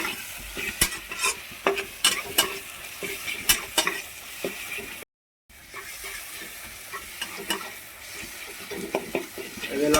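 Masala with ginger and garlic fries in oil in a pan for an Odia rohu fish curry, with a steady sizzle and repeated scraping stirs from a spoon against the pan and a brief silent break midway.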